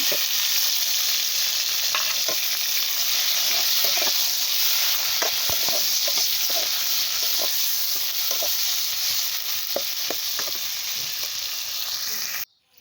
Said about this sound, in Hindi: प्याज अच्छे तरीके से फ्राई हो चुके हैं। अब मैंने इसमें ऐड करना है टमाटर।